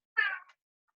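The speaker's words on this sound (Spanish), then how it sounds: "Esperen un cachito que le abro al gato." A house cat meows once to be let in, a single close, clear cry of about a third of a second, alone in a quiet room.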